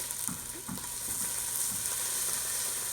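Hot tomato sauce with vegetables sizzles and bubbles steadily in a pot, a close, continuous frying hiss with a few soft stirring scrapes and no talking.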